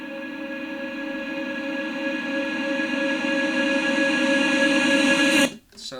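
Reversed reverb sample in music production software: a dense, steady wash of sustained tones that swells and then cuts off abruptly near the end, with no talking.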